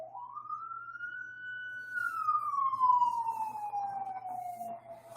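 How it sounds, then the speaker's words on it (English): A fire truck siren wails with a slow rising then falling tone, growing louder as it passes nearby over faint low traffic rumble. "I apologize for the sirens that are going by."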